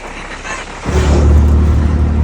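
An auto rickshaw engine in Pune kicks in partway through with a loud, steady low rumble close by, after a quieter stretch of background noise.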